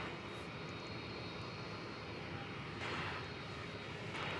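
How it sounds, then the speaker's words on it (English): A McDonnell Douglas MD airliner moves on the ground at DFW Airport at night, a steady distant jet engine drone with broadband hiss swelling slightly partway through. "we got an MD on the move"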